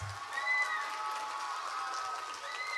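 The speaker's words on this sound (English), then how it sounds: "Let's give them a round of applause." Audience applause for fifth-grade drummers at a school Veterans Day program, a soft, steady patter of clapping from a crowd that holds for about three seconds, with a few faint tonal whistles above it.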